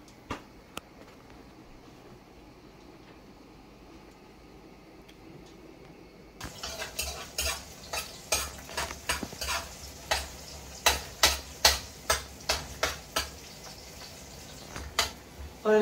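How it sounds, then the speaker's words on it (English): Garlic and pepper frying in a pot for a Guyanese-style curry: a steady sizzle starts partway through, with a near, regular series of sharp spoon scrapes and taps against the pot. "So in here I get my garlic and my pepper frying up"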